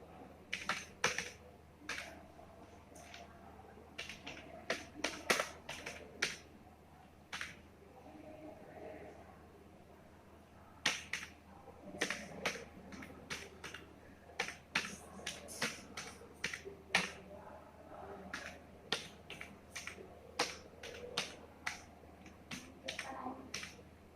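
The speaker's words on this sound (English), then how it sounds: "we can use the arrow keys also for shifting the another cell" Keys clicking on a computer keyboard while working in an MS Word table, sharp irregular taps in quick bursts separated by pauses, close and clear.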